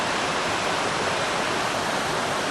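Steady, dense rush of water flowing in a Lake District stream near Crummock Water, a loud, constant broadband roar with no breaks and no voices.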